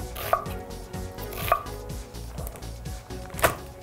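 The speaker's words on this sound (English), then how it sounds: "Just chop away." Knife chopping onion on a cutting board for homemade chicken noodle soup, with three sharp, distinct knife strikes spaced across a few seconds and some softer handling in between.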